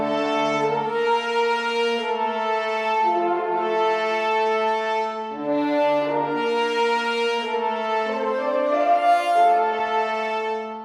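Six layered orchestral horn patches sound an octave apart as a sustained ensemble, holding long chords in two phrases with a brief dip between them. The horns play alone at a moderate level.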